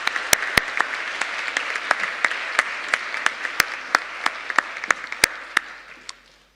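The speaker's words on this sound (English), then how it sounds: "I think they deserve a round of applause again for their amazing work" Scattered applause at the Three Minute Thesis doctoral finals, a modest audience clapping steadily with sharp individual claps standing out, thinning toward the end.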